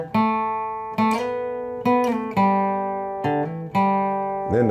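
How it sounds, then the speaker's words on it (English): Acoustic guitar playing the intro lick of a song, clear single notes and slides in short phrases, bright and close, with notes ringing between plucks and no voice. "And if you wanted to play the intro lick on the acoustic guitar,"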